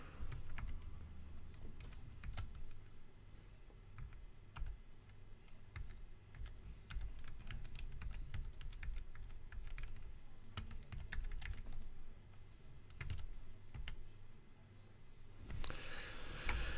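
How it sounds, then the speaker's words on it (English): Steady run of computer keyboard typing while a command is entered during a SteamOS install in VirtualBox, with quick clustered keystrokes and occasional sharper clicks over a low background hum, close and alone. "Now we need to type in the following command also."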